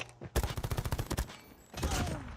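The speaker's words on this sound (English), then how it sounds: "SMGs. Amani using the switchblade." Switchblade SMG fire in a Call of Duty Mobile championship match, a fast rhythmic burst of about a dozen close shots, then a short pause and a second rougher burst.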